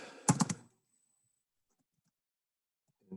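Typing on a German computer keyboard: a quick burst of a few close key clicks lasting about half a second, followed by silence.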